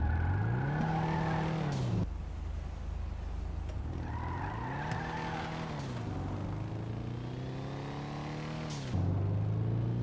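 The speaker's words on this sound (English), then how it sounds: "Hear that turbo kicking in." Willard Faction Turbo car in a racing video game, engine rising in pitch through gear sweeps with a turbo whine, loud and close, repeating in surges with brief drops between shifts.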